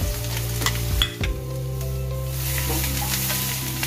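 Chili and garlic sautéing in butter in a pan, a steady close sizzle with occasional stirring scrapes and clinks, no one talking.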